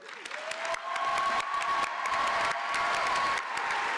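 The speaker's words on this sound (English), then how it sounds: "One more round of applause." Sustained applause with some cheering from a crowd honoring spring nursing graduates at a university pinning ceremony, steady clapping, moderately distant with hall ambience.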